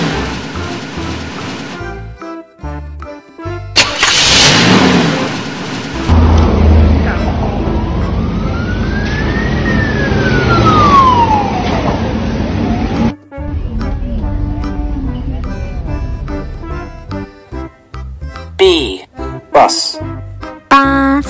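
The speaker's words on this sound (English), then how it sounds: "A ambulance" A wailing ambulance siren sweeps up and down in the middle of the stretch, loud and near, with speech and music before and after.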